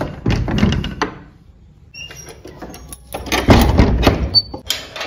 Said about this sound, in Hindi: तो सभी दरवाजा लगा देते हैं।